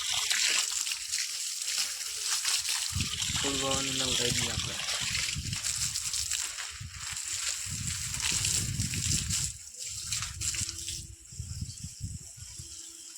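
Steady rush of running water, like a hose spraying, continues throughout with a person talking over it.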